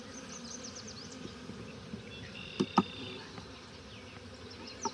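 Honey bees buzz faintly in a low steady drone during a hive split of a swarmed colony, with a couple of soft knocks partway through and no talk.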